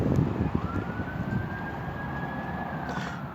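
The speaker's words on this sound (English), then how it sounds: "another ambulance just came around? Can you hear?" A distant ambulance siren wails in a long, steady tone over rumbling background noise, fading slightly toward the end.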